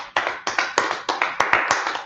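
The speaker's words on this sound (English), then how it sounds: "Let's clap it up for the Lord." Rhythmic group clapping at a Tuesday brotherhood class at ISUPK headquarters in Yonkers, New York, with seven sharp, evenly spaced claps ringing out close and loud, and no talking.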